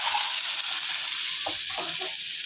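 Egg frying in a pan with chilli powder and turmeric, a steady bright sizzle that stays close and even throughout, with a few soft stirring scrapes near the end and no talking.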